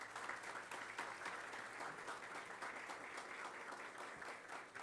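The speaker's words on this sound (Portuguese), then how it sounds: "À mesa, eu peço uma salva de palmas." Audience applause at a formal lawyers' association ceremony, a steady dense clapping from a crowd that carries evenly through the whole stretch without talk.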